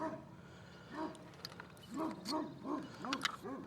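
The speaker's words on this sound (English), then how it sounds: "Neighbor dog decided to say hi." A neighbor's dog barks outdoors in short bursts of several yips and barks, moderately distant and fairly faint, with quiet pauses between groups and no talking.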